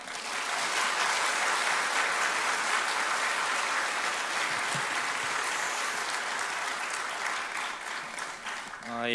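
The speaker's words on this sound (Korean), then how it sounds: "우리 나오실 때 환영하는 박수 한번 하겠습니다." A church congregation claps steadily in welcome during a Baptist service, a dense, sustained wash of applause filling the room at close range for the full stretch.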